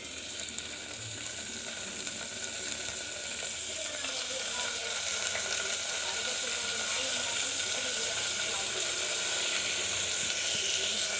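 Tomatoes dropped onto sautéed garlic and onion hiss and steam in a pan, a continuous, fairly loud sizzle that holds evenly throughout with no voices.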